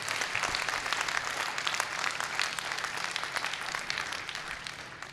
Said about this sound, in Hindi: मैं चाहता हूँ पूरा सदन महावीर जी के लिए जोरदार तालियों से सम्मान करे।